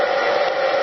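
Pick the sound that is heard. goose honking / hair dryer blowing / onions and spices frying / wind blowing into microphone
hair dryer blowing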